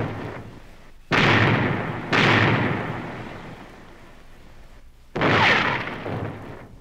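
Pirate ship cannons fire a broadside in a Pirates of the Caribbean narration, with three loud booming blasts spaced a few seconds apart, each decaying into a rumbling tail.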